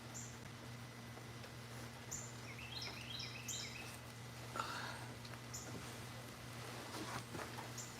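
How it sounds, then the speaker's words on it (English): Small birds chirping and singing on a morning, faint and fairly distant, with scattered short high calls and brief song phrases over a quiet hum and low background hiss. "Can y'all hear the birds chirping and singing this morning?"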